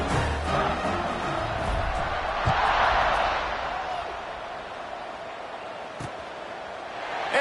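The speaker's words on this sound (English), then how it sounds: "this crowd is buzzing after that last score" A stadium crowd in the college football game NCAA 26 buzzing after a score, a broad sustained roar that swells briefly and then settles into a steady murmur.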